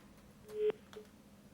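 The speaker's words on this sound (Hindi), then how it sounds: "फोन लाइन यहाँ पे थोड़ी सी डिस्कनेक्ट हो गई है" Phone line disconnecting during a call: a short electronic tone rising then cutting off abruptly, followed by a faint second blip, low in level over background hiss.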